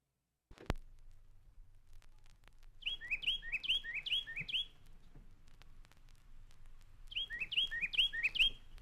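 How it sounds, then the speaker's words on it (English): A Carolina wren sings two bursts of rapid, repeated whistled phrases, clear and fairly close, with a quiet low hum underneath and no talking. "The state bird is the Carolina wren, which you now hear singing in the background."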